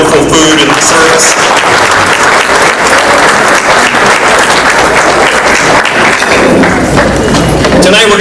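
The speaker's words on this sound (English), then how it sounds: "A big round of applause for the Elks staff for the wonderful food and service." Dinner guests at a Navy League military and youth awards banquet in an Elks hall giving loud, vigorous applause, dense and close, with some cheering voices rising through it.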